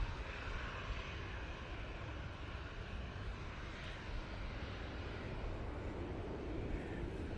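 A Logan Air airliner passes at Manchester Airport, its engines making a faint, steady, distant rumble and hiss that holds evenly throughout.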